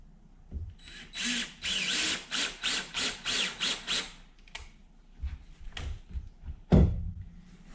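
A power drill whirs in a rapid series of short bursts, each trigger pull loud and close, followed by a few clicks and a sharp knock.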